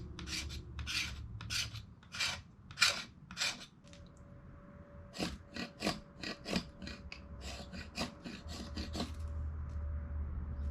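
The edge of a backpacking knife rasps against wood, shaving curls for fire starting in a close series of short, uneven scraping strokes, with a faint steady hum underneath.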